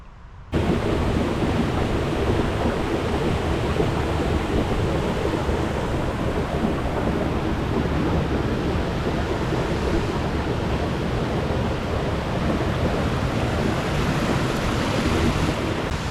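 Water rushing from the River Slea overspill onto the Old Slea, a loud, continuous roar of churning flow heard up close without a break.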